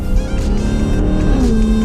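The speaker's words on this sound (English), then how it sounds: "C63 Black Series, lovely stuff." A Mercedes C63 Black Series engine rumbles loudly and steadily close by, its low growl rising in pitch near the end as it revs.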